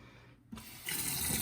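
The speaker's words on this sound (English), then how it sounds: "Turn the water on kind of light." Tap water running into a kitchen sink, starting as a quiet trickle then opening into a steadier, louder stream after a brief silence; no talking.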